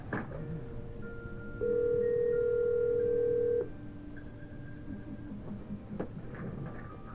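A CQ600 IP telephone places an outgoing call: a steady dial tone holds for about two seconds amid faint tonal beeps, then gives way to quieter line tones.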